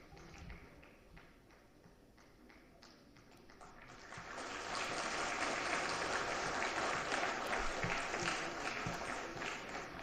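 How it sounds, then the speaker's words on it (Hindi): Audience applause at a televised cultural gala fills a hall, starting as scattered claps and swelling into sustained, dense clapping that holds steady to the end. "आपकी तालियों के लिए शुक्रिया"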